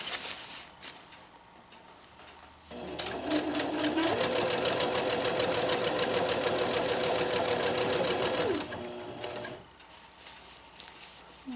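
A sewing machine stitches a zipper onto a jungle hammock, starting up after a quiet moment and running in one steady, loud, close burst of rapid stitching for about six seconds before stopping.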